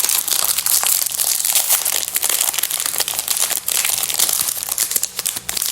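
A Choco Pie's plastic wrapper is torn open, giving loud, close, continuous crinkling and crackling with sharp tearing bursts throughout.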